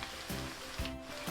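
Soy sauce hitting a hot pan while cooking chili paneer, giving a steady, close hiss of sizzling with slight pulsing swells.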